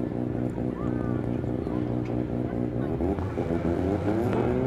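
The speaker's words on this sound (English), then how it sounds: "As they build up the revs." Drift cars sit at the start line of a D1NZ Pro Championship Top 16 battle in Wellington, engines held at a loud, steady, rumbling rev, with a commentator talking over them.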